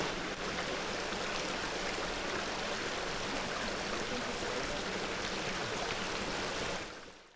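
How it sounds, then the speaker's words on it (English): Water rushing steadily in a forest stream, a broad continuous hiss and burble heard close up and alone, holding constant for several seconds before cutting off. "just listen to the water. It's one of the most beautiful sounds in the forest."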